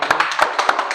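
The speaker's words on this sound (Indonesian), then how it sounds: "Tepuk tangan duluan ke teman-teman kita semua." Applause from a seminar audience in a university meeting room, a one-second burst of dense overlapping hand claps at close range with no talking.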